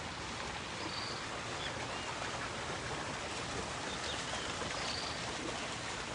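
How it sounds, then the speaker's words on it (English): A stream flows outdoors over stones in a steady, unbroken wash, faint and even throughout with no voices. "Look at that, the sound of the water"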